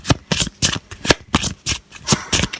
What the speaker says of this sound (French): on va tirer une carte majeure cette fois-ci